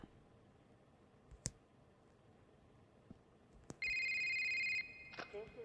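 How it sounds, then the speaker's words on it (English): A telephone rings once in the horror video game The Intruder, set in a mall, as a steady electronic tone lasting about a second, among scattered sharp clicks and low background noise. "I could answer the phone before it even rang!"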